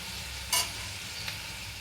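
Homemade hair oil simmers gently over a low flame in a pan, a quiet, steady faint sizzle with one soft clink and a slight stir partway through.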